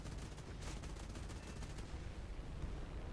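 Dense, continuous rapid 30mm aircraft cannon fire from a Ki-83 in War Thunder rattles without pause, a loud mechanical roar of autofire with bright bursts rising over the steady din.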